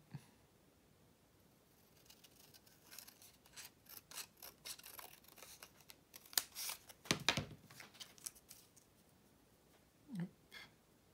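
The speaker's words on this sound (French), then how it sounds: "Donc là, je vais la couper en 2." Scissors snip a paper strip in two for a January angel-themed pocket letter craft, giving a few quiet close crisp cuts and rustles, with a sharper burst of snipping midway and a last snip near the end.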